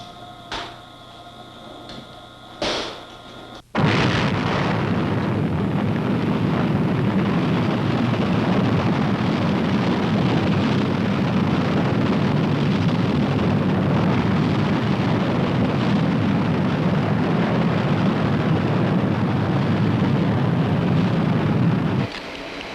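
Missile launch at Vandenberg during a 1966 Strategic Air Command test: after a few faint knocks, a sudden loud, sustained roar starts and holds steady for about eighteen seconds, then cuts off abruptly.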